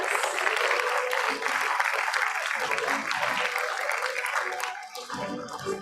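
Sustained applause from a school pre-primary convocation audience cheering young children, a dense continuous wash of clapping that holds steady and eases slightly near the end.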